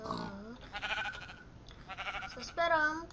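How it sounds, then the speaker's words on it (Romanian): Several Minecraft sheep bleat in short wavering calls, a few overlapping bursts close by, with a sharp click at the very end. "Încă oaie!"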